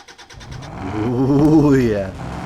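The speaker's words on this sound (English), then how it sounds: "sexy sounding engine" A car engine starts and revs up, the loud mid-pitched roar climbing and holding for about two seconds, with a few faint ticks before it catches.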